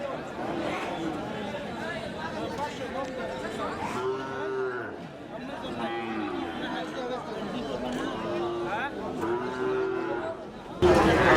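Several large cattle moo repeatedly at a busy livestock market ahead of Qurbani, their low, drawn-out calls rising over a steady crowd chatter, with a louder burst of noise at the very end.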